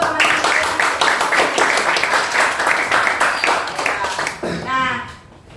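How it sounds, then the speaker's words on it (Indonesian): Classroom applause for classmates, a group of students clapping steadily for several seconds before it fades out as a voice begins speaking. "silakan kembali duduk dan berikan aplaus untuk teman-teman"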